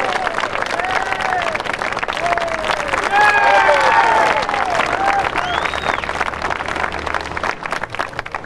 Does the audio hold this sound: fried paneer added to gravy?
no